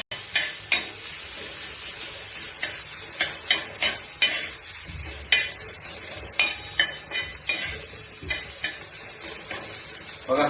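Green chilli thecha sizzling and frying in hot oil in a pan while being stirred, with steady loud sizzle and repeated scraping spoon strokes against the pan, close up, no talking.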